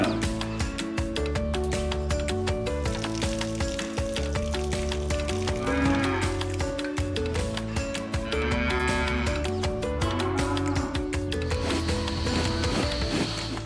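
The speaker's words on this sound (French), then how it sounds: "voir les grosses vaches" Cows mooing during an osteopath's farm visit to the cattle, repeated drawn-out moos over a steady rhythmic mechanical hum, fairly loud and close, with no speech.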